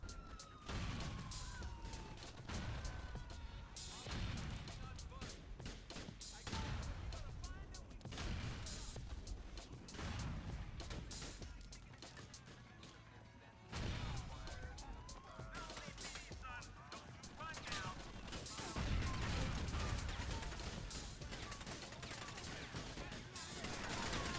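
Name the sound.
explosive sniper cheat gunfire in Grand Theft Auto video game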